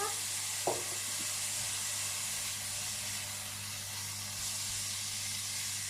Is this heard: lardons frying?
yes